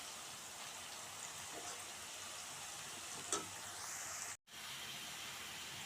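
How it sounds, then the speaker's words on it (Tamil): Kerala-style bitter gourd slices fry in a pan with a faint, steady hiss and sizzle and occasional soft stirring scrapes, interrupted by a brief dropout near the end. "நல்லா ஃப்ரை ஆகிட்டு இருக்கு"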